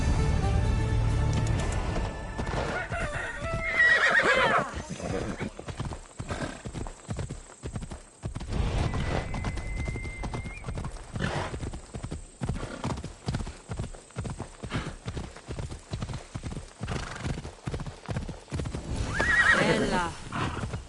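A horse gallops with rhythmic clip-clop hoofbeats and lets out loud whinnies at the start and near the end in Assassin's Creed Odyssey, with game dialogue heard over it.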